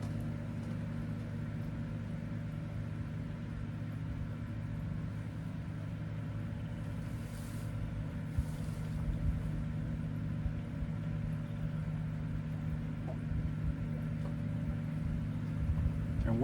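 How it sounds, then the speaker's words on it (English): A noisy airboat drones past on the water near the Virginia-North Carolina line, heard at a distance as a steady low engine rumble with a faint propeller whine under rainy outdoor ambience. "Been a noisy airboat come by. Them are the noisiest damn things."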